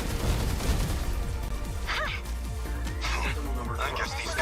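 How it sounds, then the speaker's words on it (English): Rapid gunfire from the video game 13 Sentinels, repeated bursts of shots in a steady rhythm under a dense layer of battle effects and music, with speech-like sounds mixed in. "Keep shooting, Megami."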